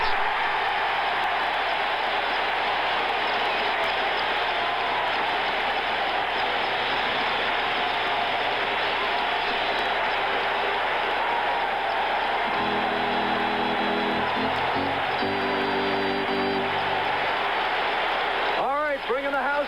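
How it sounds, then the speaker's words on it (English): A baseball stadium crowd at the 1976 All-Star Game in Philadelphia cheers and applauds, a dense continuous roar of voices and clapping, with a broadcaster talking over it throughout. "And listen to the crowd cheering the Phillies in first place with a 10-game lead at the halfway mark."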